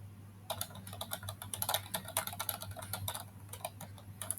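Typing on a computer keyboard while entering router VPN configuration commands, a rapid close run of clicking keystrokes in uneven bursts over a low steady hum, with no talking.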